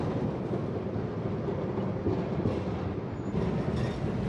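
A Melbourne tram rolls along Swanston Street past the university, a steady rumbling drone of wheels and rail noise that holds evenly throughout, with no voices.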